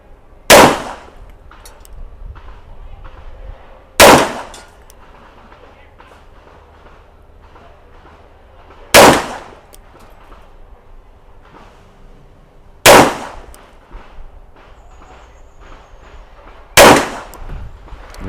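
An STI Champion pistol fires five loud, sharp shots at a target, spaced about four seconds apart, with faint rustling and movement between them.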